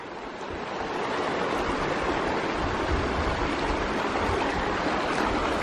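A creek along a trail rushes steadily, a dense, continuous broadband wash of flowing water that stays loud and unchanging throughout with no voices.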